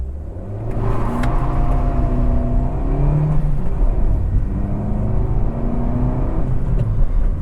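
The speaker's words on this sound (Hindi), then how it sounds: "तो अगर मैं पहले गियर पे डालूँ, फुल एक्सीलेटर दूँ" A 9-year-old Maruti Baleno with about 150,000 km revs hard under full throttle in first gear, its engine note rising in a loud, steady, close-up whine and rumble that climbs in pitch across the pull, with no talking.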